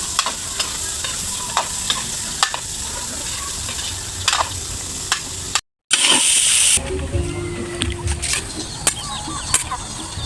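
Hot cooking oil sizzles and crackles in a pan at home during a birthday meal preparation, a steady fry with clattering utensil knocks, briefly interrupted by a gap before a louder sizzle resumes.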